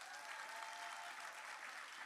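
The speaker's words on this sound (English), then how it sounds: "Please give her another round of applause." Applause at a Together Louisiana energy justice community event in the River Parishes, a crowd clapping steadily for the visiting Secretary of Energy, heard as faint, distant, even clapping with no voices over it.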